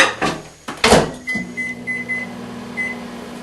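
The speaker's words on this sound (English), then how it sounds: "And then put them in the microwave for 5 minutes." A microwave oven heats potatoes in a glass pan, a steady low hum running after a couple of door or button clunks at the start, with faint electronic beeps sounding through the drone.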